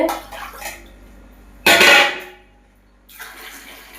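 Water poured by the glassful into a pot or cooker while cooking at home, in close, splashing bursts: a short pour, a louder gushing one, then a lighter trickle, with no talking.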